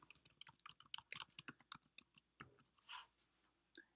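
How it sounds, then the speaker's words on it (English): Fingers typing text on a computer keyboard, a close, quiet run of quick key clicks in an uneven rhythm, followed by a brief pause, a soft shuffle and one last click. "I will simply type some text"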